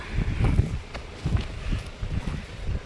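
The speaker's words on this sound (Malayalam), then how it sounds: "നല്ല കാറ്റാട്ടോ, രസമുള്ള കാറ്റ് കണ്ടോ." Wind gusts across an open farm field during straw baling and harvest work, a rumbling, buffeting roar hitting the microphone in uneven bursts for a few seconds, with no voices heard.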